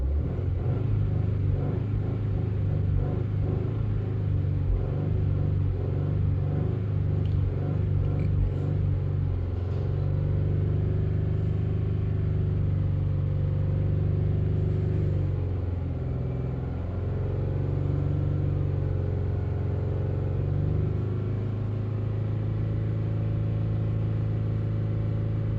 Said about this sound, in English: Give it some RPM.